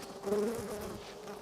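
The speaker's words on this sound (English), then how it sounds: "The bees are moving fast." A dense, steady hum of many honeybees buzzing close by in an open hive, a low droning swarm with no talking.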